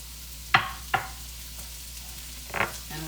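Chopped onions sizzle in oil at the bottom of a soup pot for Italian wedding soup, a soft steady hiss broken by a few sharp clattering knocks of a spoon or pot.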